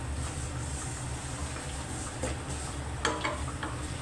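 Orzo browning in a pan, with a soft, continuous sizzle, light stirring scrapes and a few sharper clicks near the end.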